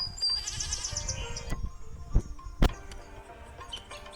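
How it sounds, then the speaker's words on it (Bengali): A goat bleats in a few drawn-out, wavering calls early on, followed by a couple of sharp knocks in an outdoor farmyard setting. "ছাগল"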